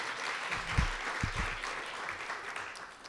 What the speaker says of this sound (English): let's give Dad a round of applause